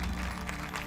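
An audience applauds the festival team at the closing ceremony of the Saint-Jean-de-Luz International Film Festival, a brief, steady wash of clapping heard from within a large hall over a low hum.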